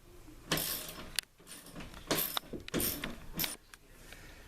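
Screws driven into a wall for a TV wall mount, several bursts of power-driver whirring and ratcheting with short pauses between runs, close and fairly loud.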